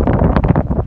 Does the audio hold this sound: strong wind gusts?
yes